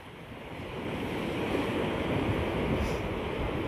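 Sea waves rolling and washing close by, a broad rushing surge of surf that swells slightly louder over a few seconds, mixed with wind.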